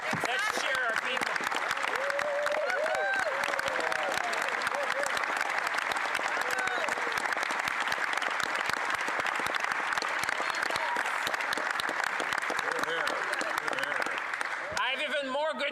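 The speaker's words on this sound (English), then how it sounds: "yes, let's cheer our people." Members of parliament applaud loudly and continuously on budget day, dense clapping with scattered cheers filling the chamber before it suddenly cuts off near the end.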